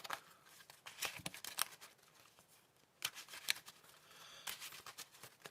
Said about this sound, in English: And let's just shuffle this up a little bit.